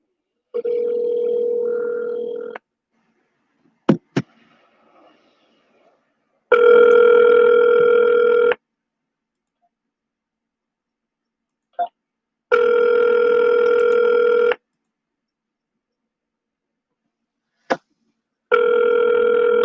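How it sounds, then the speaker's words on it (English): A telephone call being placed: a few short dial or button tones, then a steady electronic ringback tone repeating in long bursts separated by silence, heard clearly and alone. "Let's call up Star"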